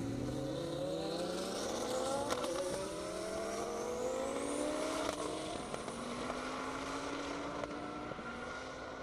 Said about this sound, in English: Up next, David Perlman in a 2016 Lamborghini. Going solo.